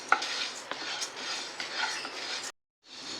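Moong dal (pasi paruppu) dry roasts in a pan, giving a close, continuous rustling and scraping as the lentils are stirred, then cutting off into a brief silence at the end.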